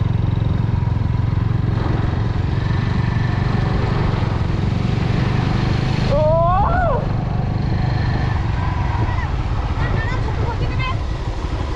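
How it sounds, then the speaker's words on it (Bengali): A motorcycle runs on a road by Digha sea beach, its engine a steady low drone up close. Voices speak over it and a brief rising whine cuts through midway. "এই তো বাইক যাচ্ছে এখান দিয়ে একটা"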